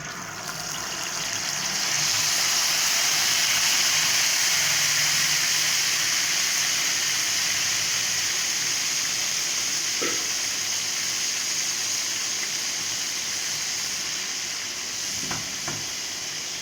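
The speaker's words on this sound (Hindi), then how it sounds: "अब हम इसमें अपनी कलेजी जो गली हुई वो इसमें डालेंगे कढ़ाई में।" Mutton liver (kaleji) fries in hot ghee in a wok, giving a loud, steady sizzle with bubbling hiss throughout, plus a few brief stirring scrapes near the end.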